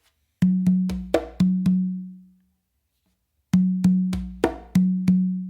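Congas laying down a bossa nova pattern, with deep ringing open tones on the tumba mixed with sharper slaps, played in two separate phrases split by a short silence; a solo hand drum, close and clear.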